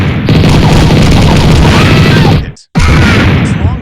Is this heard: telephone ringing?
no